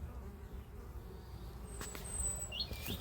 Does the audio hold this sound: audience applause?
no